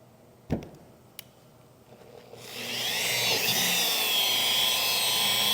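Power polisher running on car paint to buff out deep scratches: a couple of sharp knocks first, then the machine spins up into a loud, steady whirring hum that continues to the end.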